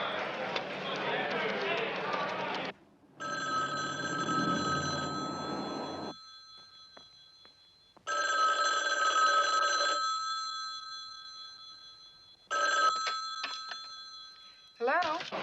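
A telephone rings in bursts of bright trilling bells separated by short pauses, while people talk between and around the rings.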